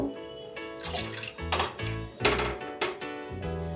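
Liquid is added a little at a time to a pot of cooking custard for a no-oven malai cake, with wet drips, splashes and pan clinks coming in short uneven bursts close by.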